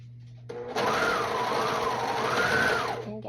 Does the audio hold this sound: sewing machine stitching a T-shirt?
yes